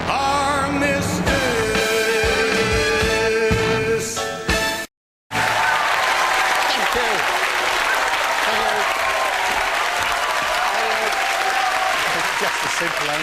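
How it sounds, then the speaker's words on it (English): A studio audience at a 1995 television comedy show breaks into loud, sustained applause that follows a brief musical opening and a short dropout, the clapping continuing steadily and close. "Thank you for that sickening applause"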